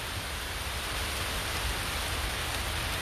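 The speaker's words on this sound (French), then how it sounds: "It's raining. It's raining, ouais." Rain falls steadily along the edge of the Marne river, a soft, even hiss with no talking and no distinct drops standing out.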